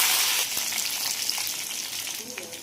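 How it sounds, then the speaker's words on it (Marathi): Chopped onion, curry leaves and chili hit hot oil crackling with tempered mustard seeds, giving a loud, steady close-up sizzle with a dense hiss and scattered pops throughout, no voices. "मोहरी तडतडली का लगेच मी कांदा, कढीपत्ता आणि मिरचीची फोडणी देते."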